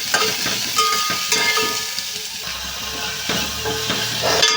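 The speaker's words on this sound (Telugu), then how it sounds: "ఉల్లిపాయలు అయితే వేసాను ఆ ఉల్లిపాయలు అయితే ఫ్రై చేసుకోవాలి" Onions with turmeric frying in hot oil in a pan for a jackfruit seed and raw mango dish, a steady loud sizzle broken by repeated scraping stirs of a spatula, with no voices.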